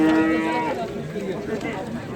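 Cattle at the Sokuluk livestock market give a loud, drawn-out moo in the first half-second, then fade into a busy, noisy background of market activity.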